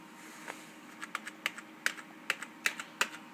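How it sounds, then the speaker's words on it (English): Keys on a computer keyboard are tapped repeatedly at close range, with about a dozen quiet clicks at an uneven pace and no voices during the tapping. "Pressing delete on the keyboard here"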